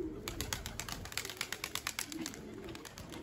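Young carrier pigeons coo faintly outdoors amid a busy run of rapid clicking, fluttering and scratching noises, with no talking.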